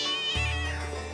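A cat meows loudly and up close in a single drawn-out, wavering call that drops into a lower, steady tail, with nothing else heard.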